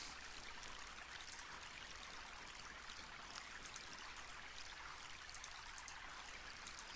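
Fountain water in the Plaza of the Fountain in the Quest for Glory 2 VGA game, a steady, faint splashing trickle with small drips, continuous throughout and alone.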